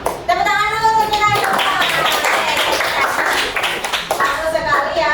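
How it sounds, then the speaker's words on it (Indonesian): A classroom of students claps together after group presentations, a dense patter of hands that carries under a teacher's voice throughout. "Tepuk tangan dulu untuk kita."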